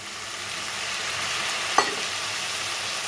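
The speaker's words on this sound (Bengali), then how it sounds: "এখন আমি একটু জল দিয়ে দিচ্ছি সামান্য পরিমাণে" Potatoes and shrimp frying in a pan give a steady broadband sizzle, with a single sharp burst near the middle as a small splash of water hits the hot oil, then the sizzle carries on evenly.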